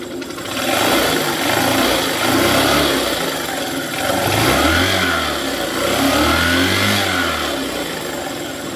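Honda Shine motorcycle engine after a full engine fitting, revved up and down close by in repeated loud surges over a rough running rumble, with no talk.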